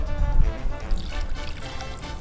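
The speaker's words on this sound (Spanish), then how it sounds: "Nuestro aderezo lo vamos a pasar por un colador" A Peruvian roast pork marinade with orange juice and salt is poured through a strainer, giving a steady liquid pour and trickle that is loudest near the start and carries on without a break.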